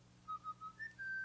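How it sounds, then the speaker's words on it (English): A short rising whistle alert from the Stop Snoring iPhone app, a few quick chirping notes climbing in pitch, faint and alone over a low hum. "we just had our whistle noise that came about as well"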